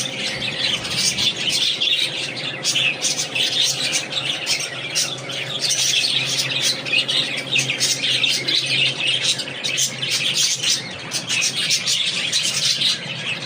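Loud, continuous shrill squawks and chirps from many cockatiels and parrots close together, a dense chattering chorus with no pause.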